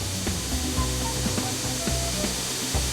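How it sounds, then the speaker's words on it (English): Soft tantalum metal being ground with no sparks, a steady broadband grinding rush with faint tonal motor hum and a few small scrapes, continuous and fairly close. "Oh, it's super soft to grind"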